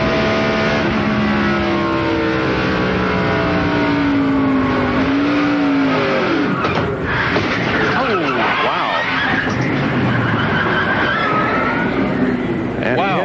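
Stock car engine heard from an onboard camera at Indianapolis during the 1997 Brickyard 400, roaring loud and continuous down the back stretch, pitch rising and falling with a commentator talking over it.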